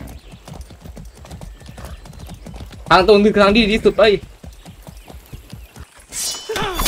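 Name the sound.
horse galloping in video game Far Cry 6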